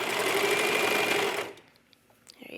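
A sewing machine runs steadily at speed, stitching fabric for a sports bra with right sides together, a loud continuous whirr that stops abruptly halfway through and leaves near silence with a few small handling clicks.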